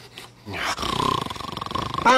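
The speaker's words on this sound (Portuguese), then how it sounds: "Para, tá roncando." Cartoon-style snoring from a sleeping character in a dubbed animated scene, a rhythmic series of rapid rasping pulses after a brief spoken line, fairly loud and close, with another voice starting at the end.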